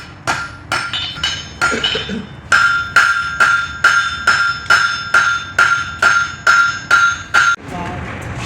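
Hammer blows forge welding hot metal at a blacksmith guild demonstration, a run of about fifteen sharp ringing strikes, first irregular, then a steady even rhythm, loud and close before the hammering stops.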